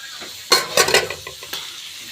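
Potatoes, carrots and capsicum tossed into a hot pan, giving a loud burst of sizzling with a few clatters of stirring that settles into a softer crackle.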